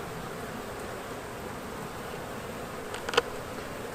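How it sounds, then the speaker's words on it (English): A dense, steady hum of many honeybees buzzing close by on a hive frame, with a brief louder buzz as one passes near. "just bees on a frame."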